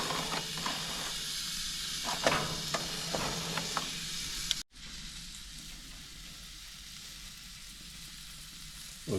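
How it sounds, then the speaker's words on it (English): A pork chop sears in a hot pan at a Pennsylvania deer camp, with a loud, dense sizzle and crackle. It drops off abruptly halfway through, leaving a quieter, steady hiss. "I'm just going to sear it for a couple seconds over here. Just get a little char on that."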